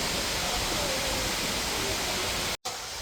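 Steady, loud roar of a man-made waterfall in Seoul, a dense continuous rush of water that briefly cuts out near the end before resuming.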